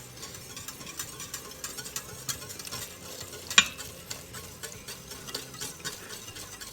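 A whisk scrapes and stirs steadily through a thickener in liquid at a rolling boil inside an Instant Pot while making a pot roast. A soft bubbling sizzle runs underneath, and one sharp clink of metal stands out partway through.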